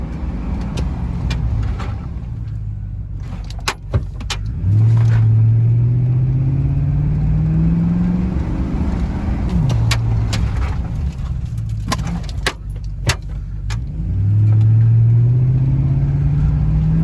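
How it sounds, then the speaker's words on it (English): A 2006 Chevrolet Silverado pickup on a brake bedding run: the engine rises steadily as the truck accelerates, eases off, then climbs again. The drone is loud and close inside the cab, with occasional thumps and rattles. "I do a 25 mile/hour run, then a complete stop."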